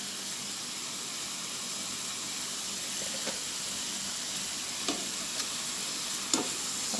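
Tomatoes and onions sauté in oil in a pan, giving a steady, soft sizzle throughout with a few faint utensil scrapes and clicks near the end.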